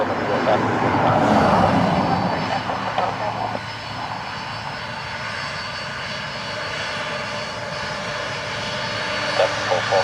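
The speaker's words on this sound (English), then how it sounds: "This is our 767-300" A Boeing 767-300 at Dublin Airport roars with a steady jet engine drone, loud and sustained throughout, while radio chatter and a voice talk over it.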